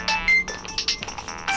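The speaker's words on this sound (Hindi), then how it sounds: "यादव सर का फोन है" A mobile phone ringtone chirps in short melodic bursts for an incoming call, close and clear in a quiet room.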